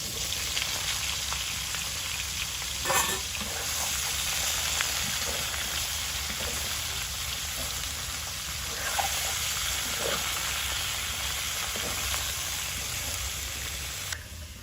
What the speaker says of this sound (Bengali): চিচিন্দার জন্য দিয়ে দিচ্ছি কড়াইতে তেল।